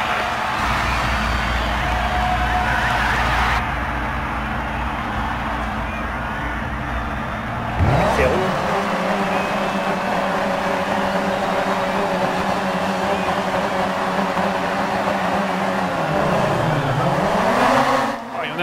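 RX2 rallycross cars launching off the start line in the DiRT 4 racing game: loud engines at high revs, a sharp surge at the launch, then several cars roaring together with sustained engine drone and shifting pitch, with a voice speaking at times.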